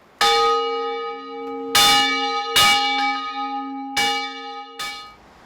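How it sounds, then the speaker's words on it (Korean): A deep old church bell at Jeonju Seomun Church tolls five times at a slow, steady pace, each strike ringing out with long, humming overtones that overlap the next. "옛 역사의 정취를 품은 종소리가 은은하게 울려 퍼집니다"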